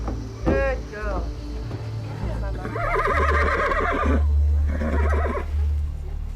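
A mare neighs while horses are loaded into a trailer during an animal rescue in South Africa, one loud whinny followed by shuffling and other calls, with people talking nearby.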